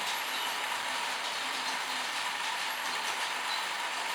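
A ViTrains model locomotive runs steadily on track, giving a soft, continuous mechanical whir with a faint ratcheting gear texture, unbroken and alone.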